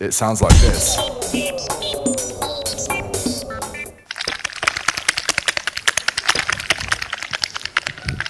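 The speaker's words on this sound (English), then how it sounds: "we recorded sound of jelly wobbling for the first time" A voice speaks briefly, then rapid crackly clicking follows from wobbling jelly: fast, irregular ticks, close and fairly loud.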